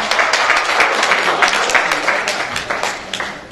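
An audience claps after a rope magic trick. The applause is brief, dense and fairly loud, running for a few seconds and fading at the end.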